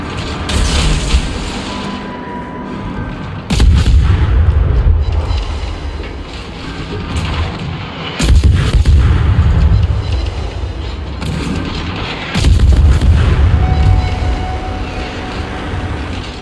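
Heavy naval gunfire from a Tier 3 German IGN G-101 destroyer shelling an enemy cruiser in a naval battle game: three loud, booming salvos spaced a few seconds apart, each a broad blast decaying into low rumble, with steady engine and sea ambience between.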